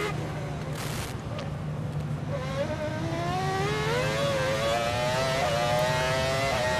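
Damon Hill's 1999 Formula One car accelerates on board during Monaco practice, its engine pitch climbing in steady sweeps with gear shifts between. A loud, continuous roar runs throughout, with commentary underneath.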